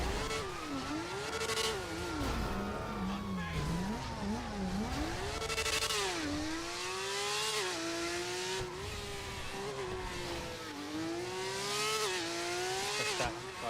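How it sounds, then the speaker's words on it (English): A fast car engine in a video game revs hard and loud, pitch climbing and dropping through repeated shifts, with brief tire squeals, continuous throughout. "The fastest car I have, and it's super loud."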